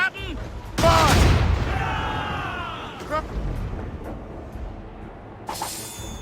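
Ship cannons in an Assassin's Creed Rogue cutscene let go with a loud, close burst of booming fire, then a rumbling tail. Shouted voices come before and after the volley.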